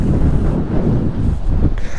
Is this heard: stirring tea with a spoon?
no